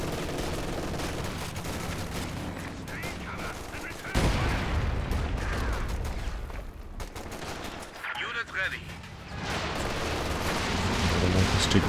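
Artillery barrage in Company of Heroes 2 during a 2v2 match: dense, continuous volleys of booming impacts and rapid gunfire layered together, loud and sustained, with a commentator talking over the battle.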